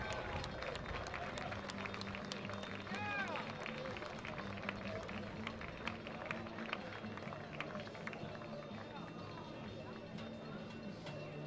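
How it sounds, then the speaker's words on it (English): A stadium crowd at a Division III college football game between McDaniel and Johns Hopkins applauds the seniors with scattered, fairly distant clapping under a steady crowd murmur, with voices faintly audible. "please join in a round of applause for the 2025 Johns Hopkins football seniors"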